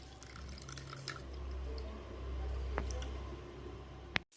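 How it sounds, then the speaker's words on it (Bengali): Water straining and dripping from freshly made chhena (cottage cheese) for rasmalai, soft close trickles and drips with a low background rumble and a sharp click near the end. "এটা ভালো করে জলটা আমি ছেঁকে নেব।"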